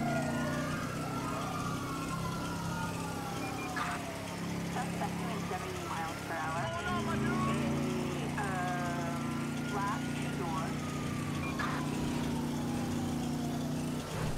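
Police sirens wail and sweep over a loud, droning car engine in the video game GTA V, with a few short horn-like blips mixed into the steady noise.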